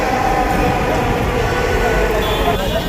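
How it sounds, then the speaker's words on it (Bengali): A Dhaka metro rail train runs with a loud, continuous rumble and hum of wheels and carriage noise filling the whole stretch. "স্বপ্নের মেট্রো রেলে প্রথম ভ্রমণ"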